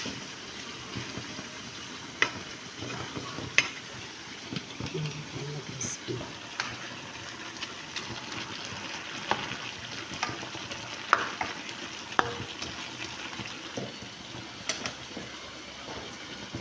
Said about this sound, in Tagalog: Nagluluto din ako ng crispy bawang para ilagay ko kung mamaya sa grill tanigi